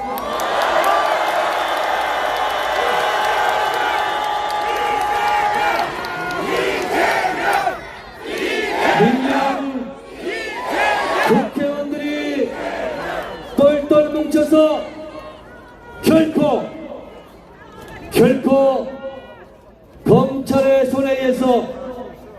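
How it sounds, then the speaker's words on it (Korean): A large crowd at an outdoor Korean candlelight political rally, with loud rolling cheers and shouts breaking out in repeated bursts and clapping mixed in, while a voice carries over the crowd between surges. "응원의 함성과 박수를 보내주시기 바랍니다"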